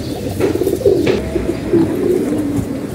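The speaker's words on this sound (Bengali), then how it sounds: "এই যে একটা কবুতর জাবরা কবুতর," Jabra pigeons, an old breed line, coo close by in a low rolling murmur that swells and repeats, with no voices over it.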